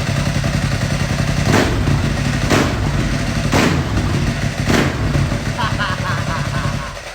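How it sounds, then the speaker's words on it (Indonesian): A Ducati Monster S4 RC with a dry clutch idles and revs close by, its exhaust giving a deep, throbbing burble over a rattling clutch clatter, with several sharp blips of throttle standing out. "Suara motornya sih gokil banget karena memang berpadu antara suara drag clutch-nya itu yang tak tok kayak motor rusak sama suara knalpotnya."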